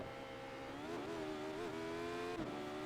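Radical SR8 race car in iRacing at Zolder accelerating hard out of a corner, its high-revving engine rising and dipping through gear changes, loud and close throughout with no talk.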